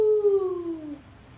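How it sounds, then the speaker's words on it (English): A single wolf howl rises and then slides down in pitch, loud and close, before fading out after about a second. "Ooh, that's a wolf."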